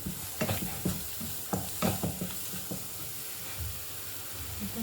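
Spices and oil for baingan bharta sizzle in a pan while a spoon stirs them, soft steady frying hiss with scraping strokes in an irregular rhythm, close and fairly quiet.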